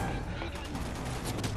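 A dense, loud volley of gunfire from Resident Evil 6 fills the moment, rapid overlapping shots with no break, with game noise layered underneath.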